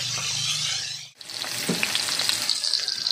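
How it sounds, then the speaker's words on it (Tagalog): Milkfish (bangus) tail frying in a pan, a dense close sizzle that dips for a moment as the fish goes in, then returns louder with bright crackling spatter throughout. "Iprito na natin."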